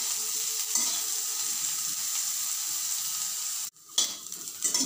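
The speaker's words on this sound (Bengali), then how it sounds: "উচ্ছেগুলো আমি দিয়ে দিলাম। এবার একটু লালচে লালচে করে ভেজে নেব।" Diced bitter gourd frying in hot oil makes a bright, continuous sizzle close up, broken by a sudden brief drop in sound before the hiss resumes with stirring knocks.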